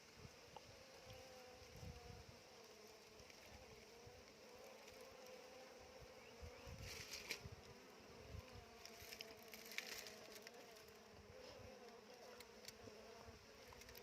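Bees buzz steadily around wooden beehive boxes outdoors, a dense continuous hum with individual insects swelling louder as they pass close.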